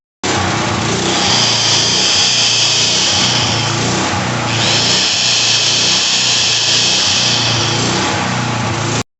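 A McCulloch FG6000MK 5700-watt generator with a loose engine mount runs loud and close, a continuous buzzing engine drone with a brief dip in the middle as the engine surges.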